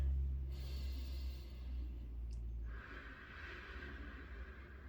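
One slow, deep breath taken close by: a long, drawn-in inhale followed by a softer, steady exhale, with nothing else around it in a quiet room.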